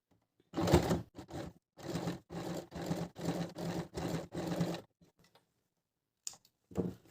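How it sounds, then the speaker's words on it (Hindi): A sewing machine runs a press stitch along a kurti sleeve in a string of short, rhythmic bursts of quiet clattering, then falls silent apart from a couple of brief later taps. "मैं इसको उल्टी तरफ से प्रेस स्टिच दे रही हूँ।"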